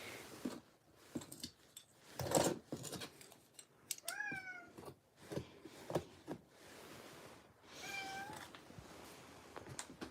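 A house cat meows several times close by, short rising cries scattered among soft indoor clicks and handling noises.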